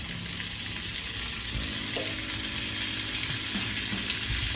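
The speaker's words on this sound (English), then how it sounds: "put it into your cast iron. That's gonna melt immediately. You can hear the sizzle." Butter melting in a hot cast iron pan sizzles steadily, a continuous close frying hiss with faint crackles throughout.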